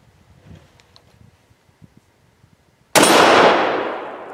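A sharp, loud metallic crack bursts out after quiet rustling, then rings and slowly fades as a bullet strikes an AR500 steel target plate.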